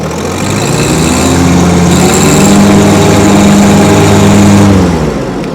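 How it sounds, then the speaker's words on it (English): A 2022 John Deere 1025R sub-compact tractor runs steadily with its belly mower deck spinning, a loud continuous hum that swells slightly and then eases off near the end. "I'm going to go ahead and engage the deck."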